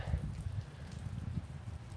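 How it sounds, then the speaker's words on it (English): Rain falling steadily on an outdoor golf driving range on a cold, raw day, heard as a continuous low, rumbling patter with no voices, likely blended with wind. "It's rain now, but it's going to turn to snow, I'm pretty sure."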